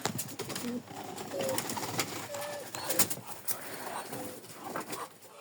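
Soft pigeon coos repeat at intervals amid other bird chirps and light background noise, fairly quiet and close.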